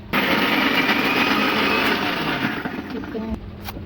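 A kitchen mixer grinder whirs loudly while grinding ginger, garlic and cumin into masala. The high, steady motor whine holds close and strong, then slows and winds down near the end.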